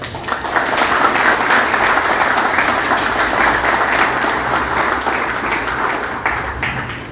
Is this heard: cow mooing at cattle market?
no